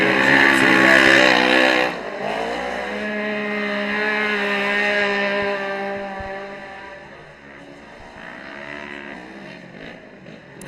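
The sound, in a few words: side-by-side off-road racing cars driving on track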